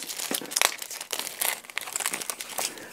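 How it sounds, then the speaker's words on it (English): Plastic packaging crinkles and crackles while crafting vintage embellishments, a close, busy run of irregular rustling bursts with no talk. "So you don't have to hear all the crinkling."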